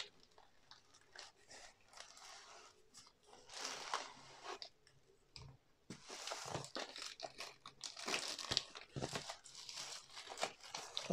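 Plastic-wrapped AliExpress package for a diamond painting kit being opened, with crinkling, crackling and tearing of plastic in irregular bursts, close and fairly quiet, and no speech.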